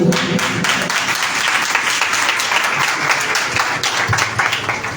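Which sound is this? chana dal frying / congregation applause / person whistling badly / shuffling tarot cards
congregation applause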